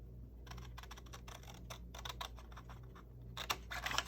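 Scissors snipping through paper pieces for a handmade junk journal folio, a quiet run of short close cuts and small rustles, irregular in rhythm, with no talking.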